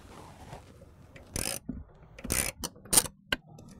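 A hand ratchet unbolts the stock air box on a 2011-14 Ford Mustang GT 5.0L, giving several short, sharp metallic clicking bursts separated by pauses, close and alone.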